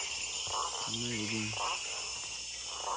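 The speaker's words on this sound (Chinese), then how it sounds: "夜晚的丛林弥漫着各种虫鸣" Insects chirp steadily at night in the Amazon jungle of Peru, a dense continuous high-pitched chorus, while a low animal call and a brief spoken word break in near the middle.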